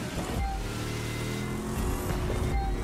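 Supercharged Corvette drag car engine in the racing game The Crew 2, a loud continuous roar with shifting pitch that holds through the whole run without a break.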